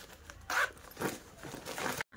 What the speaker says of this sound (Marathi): आता आपल्याला झिप ओपन करून घ्यायची आणि हा भाग राईट साईडला टर्न करून घेऊया